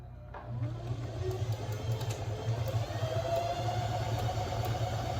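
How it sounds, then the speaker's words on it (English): Sewing machine running steadily while stitching a bathing suit, a continuous mechanical hum with a fast clattering needle rhythm, fairly close and alone for about five seconds. "I'm ready to start sewing."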